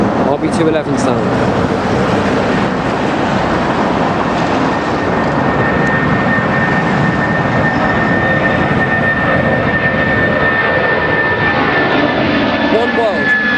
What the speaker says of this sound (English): RB211 sound.